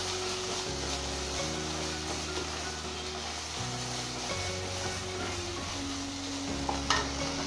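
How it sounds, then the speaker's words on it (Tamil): Food sizzles and fries steadily in a pan while being stirred with scraping strokes, alongside cooking mushrooms and boiled potatoes for a curry; a close, continuous crackle with no talking. "நல்லா ஃப்ரை பண்ணுங்க."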